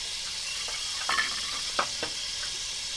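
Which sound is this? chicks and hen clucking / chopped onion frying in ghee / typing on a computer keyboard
chopped onion frying in ghee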